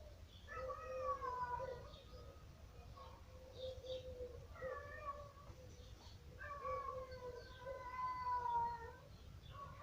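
A cat meows three times in long, drawn-out, wavering calls, quiet and somewhat distant over a low background hum, with a dog nearby during a home yoga session.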